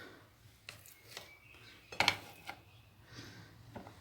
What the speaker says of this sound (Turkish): suya domates salçamızı karıştırıyoruz